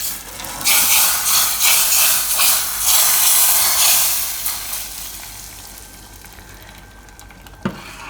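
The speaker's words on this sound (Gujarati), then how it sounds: "આ રીતે વઘાર આપણે દાળ ઉપર રાખી દેવું." Hot tempering with asafoetida and curry leaves is poured over dal, giving a loud sizzling hiss that bursts in waves, then slowly fades to a soft simmer with a small clink near the end.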